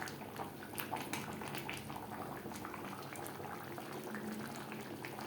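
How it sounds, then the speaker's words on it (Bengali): Potatoes bubble in chicken biryani gravy, a steady close simmer with small pops and gurgles running throughout, with no voices. "গ্রেভির সাথে ও মাংসের সাথে আলু বেশ ভালো করে মিক্সড করে দেবো দু তিন মিনিট গ্রেভির সাথে আলু ফুটিয়ে নেব"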